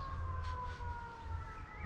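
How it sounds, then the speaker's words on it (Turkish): A wailing ambulance siren, steady and somewhat distant, with a rising and falling tone under low rumbling traffic noise. "Ambulans sesi."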